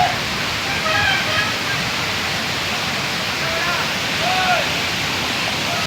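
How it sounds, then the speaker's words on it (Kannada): Water at Mookanamane Abbi Falls near Sakleshpur, Karnataka, rushes in a constant broad roar heard from a distance, with faint voices mixed in. "ನೀರು ಸೌಂಡು ಇಲ್ಲಿವರೆಗೂ ಕೇಳಿಸ್ತಾ ಇದೆ."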